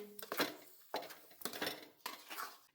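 A spoon stirring jaggery in a pan while making gundar pak, giving about five rhythmic scraping and clinking strokes against the metal, close and fairly loud, with no talking.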